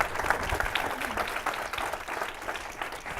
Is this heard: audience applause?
yes